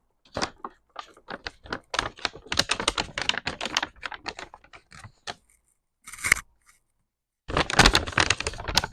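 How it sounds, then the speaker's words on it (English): Red crinkly paper handled right next to the microphone while a first junk journal is assembled, giving bursts of close, sharp crackling and rustling with short pauses, then a final dense stretch of crinkling. "But I like the way it sounds, the crinkly paper."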